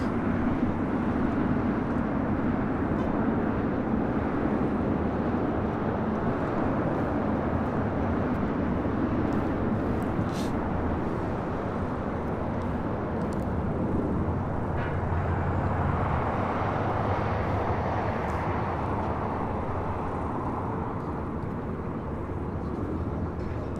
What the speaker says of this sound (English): Next departure here on the Southside, American Airlines Flight 2002 heading to Las Vegas in a 737-800